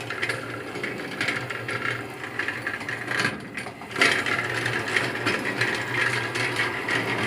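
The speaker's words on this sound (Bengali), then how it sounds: "দেখতে পাচ্ছেন আমরা মেশিন চালাইছি" An updated charger machine, now direct-fitted without a chain, runs steadily and fairly quietly nearby with a continuous mechanical whir and light rattling, briefly dipping before resuming.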